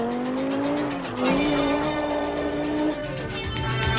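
An Audi Sport rally car at a 1988 international rally, its engine droning loud and close with rising and falling revs and a gear change midway.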